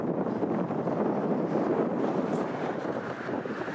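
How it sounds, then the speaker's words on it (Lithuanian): Loud, continuous roar of strong wind buffeting the microphone, with no voices. "Labai vėjas dabar."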